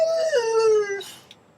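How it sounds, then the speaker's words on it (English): A dog howls excitedly in one drawn-out, wavering cry that slides lower in pitch for about a second, then breaks off into a short breathy sound, close and fairly loud. "Get my dog all excited."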